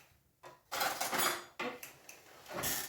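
A spoon clinks and scrapes against a bowl while stirring a tuna and caper mixture, giving several close, sharp metallic bursts with short pauses between.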